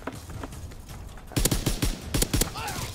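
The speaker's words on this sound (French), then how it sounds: "Arrête de tirer n'importe où, toi." Rifle shots in Call of Duty WW2 with the M1A1 carbine, a run of sharp gunfire cracks in quick succession over the game's ambient noise, with a voice heard briefly.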